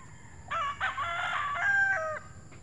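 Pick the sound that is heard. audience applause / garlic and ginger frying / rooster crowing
rooster crowing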